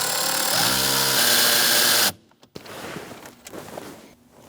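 A power tool with a 7mm socket spins loudly for about two seconds, pulsing as it backs out a screw on an HVAC blend door actuator in a 2012-2020 Chevrolet Sonic, then cuts off, leaving faint handling clicks.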